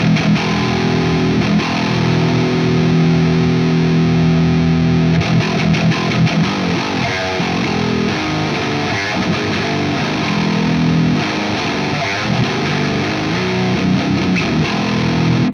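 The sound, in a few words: distorted 8-string electric guitar tone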